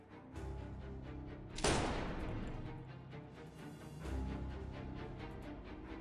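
A gunshot rings out at dawn outside Gwanghwamun gate in 1895, a single loud sharp crack that booms and rolls away into a long reverberating tail amid low rumbling sound effects.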